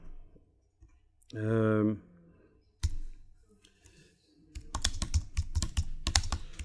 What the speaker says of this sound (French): Je tape, j'enfonce la touche retour chariot sur le clavier